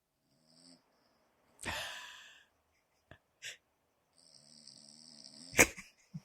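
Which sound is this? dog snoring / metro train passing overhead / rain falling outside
dog snoring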